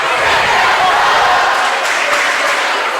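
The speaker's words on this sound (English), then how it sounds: "And right now, Wildwood Catholic, they're faithful, also up and chanting" Rival high school fans in a gym during a Gill St. Bernard's vs. Wildwood Catholic girls' game, a dense, steady crowd roar of chanting and cheering that fills the hall without a break.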